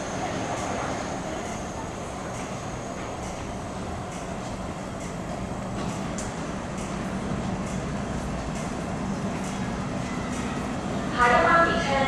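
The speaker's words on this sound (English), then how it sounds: "The train is arriving." An MTR Kwun Tong Line M-Train pulls into Tiu Keng Leng station with a steady, close rumble of wheels and motors that swells slightly toward the end, with voices and announcements over it.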